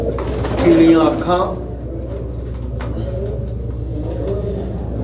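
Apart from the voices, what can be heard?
pigeon cooing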